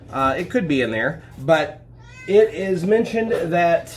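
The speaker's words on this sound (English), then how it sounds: "That's my cat." A pet cat meows several times in short, wavering calls, close by, mixed in with someone talking.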